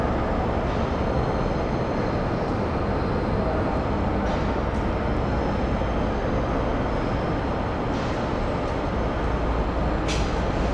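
Passenger railway carriage in Brisbane rolling past, a loud steady low rumble of wheels and running gear with occasional faint squeals, continuous throughout.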